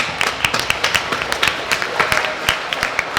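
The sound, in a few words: audience applause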